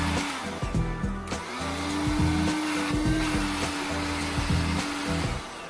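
A cordless handheld 120W, 8000Pa car vacuum cleaner runs nearby with a steady motor whine, its pitch dipping and wavering as it is handled and switched over a few seconds.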